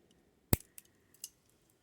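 Scissors snipping through a cord in a candle ritual: one sharp close cut followed by a few faint clicks of the blades, in a quiet room.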